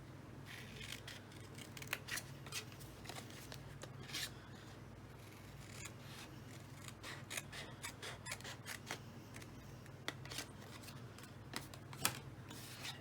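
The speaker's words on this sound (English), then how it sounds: "Just snip that right off." Scissors snipping off scored pieces of card for a pop-up card, a series of crisp close cuts in irregular rhythm over a quiet room hum.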